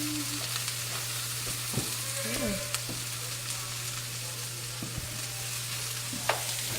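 Onions and celery sautéing in butter give a steady, close frying sizzle, with a few scattered clinks and light stirring scrapes over the hiss.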